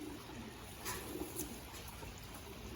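An old racing pigeon gives a couple of faint, soft, low coos, quiet and a little distant against a hushed background.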